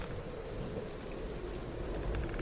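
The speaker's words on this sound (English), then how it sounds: "as the only sound you can hear is just the torrential downpour hitting the boat." Torrential rain pours onto a boat in a steady, dense hiss, with low thunder rumbling underneath throughout; nobody speaks.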